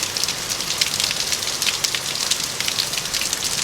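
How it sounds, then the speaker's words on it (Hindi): Heavy mountain rain in a hill village pours steadily, a dense, loud hiss of drops hitting surfaces with no pauses. "और बारिश काफ़ी तेज़ है वाकई में।"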